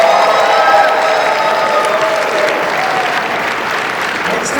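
A large crowd at PAX East applauding and cheering in a packed hall, a dense, steady roar of clapping that holds loud throughout and fades only slightly.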